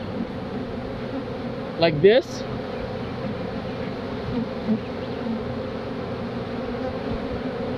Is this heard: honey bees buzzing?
yes